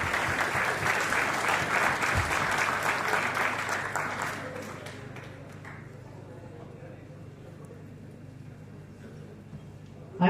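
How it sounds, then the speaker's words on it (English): Audience applause for a guest of honor at an international scientific conference, a dense, steady burst of clapping that runs loud for about four seconds before thinning and fading into quieter room sound. "Please give her a huge round of applause to Dr."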